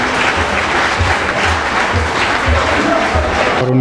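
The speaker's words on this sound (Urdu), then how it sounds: "ایک بار بھرپور تالیاں اپنے لیے تمام" An audience at a Urdu poetry program in Texas applauds with loud, sustained clapping that fills the room steadily from start to end.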